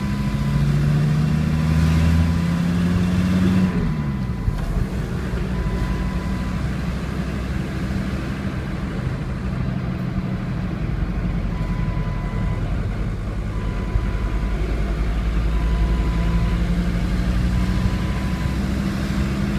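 A 2000 Ford F-150 pickup with a diesel engine and manual stick shift accelerates. The engine note climbs, drops at a gear change, then continues as a steady, loud drone close by.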